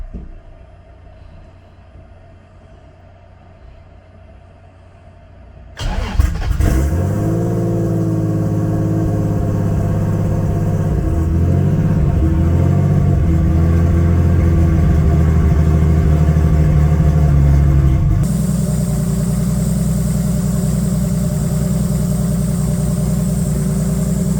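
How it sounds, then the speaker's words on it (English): After a few quiet seconds, a 2JZ-swapped Scion FR-S cranks and catches on a cold start in early October, then runs at a loud, steady, rough idle that shifts pitch partway through, close by with no talking. "Here's a video of me running the car recently for the last time. Cold start, early October."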